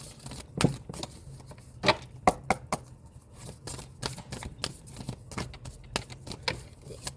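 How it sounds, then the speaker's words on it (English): Moonology oracle cards shuffled by hand at close range, a quiet run of crisp riffles and snaps in an irregular rhythm over a soft room hum, with no talking. "let's pull some Moonology cards for you"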